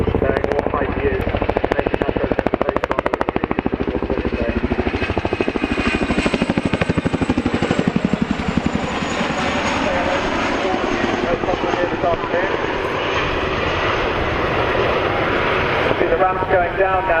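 Military aircraft flying an airshow display at RAF Cosford: a loud, continuous engine roar and rush fills the whole stretch, with a commentator talking over it.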